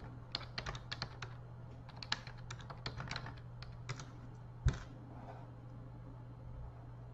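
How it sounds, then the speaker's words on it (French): Quick bursts of typing on a computer keyboard, irregular clusters of key clicks close by over a steady low hum, then one sharp louder tap before the clatter fades into quiet. "moi je tape comme ça"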